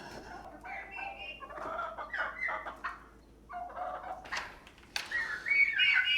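Chickens clucking and murmuring inside a barn, several birds close by making short, uneven calls with brief pauses and a louder burst near the end.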